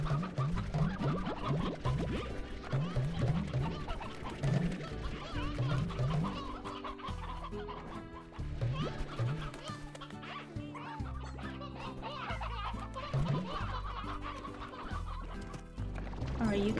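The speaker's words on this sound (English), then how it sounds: "I'm going to start dispersing these chickens, methinks." Cartoonish chickens in the farming game Slime Rancher cluck repeatedly in bouncy bursts over continuous background game music, loud and busy throughout.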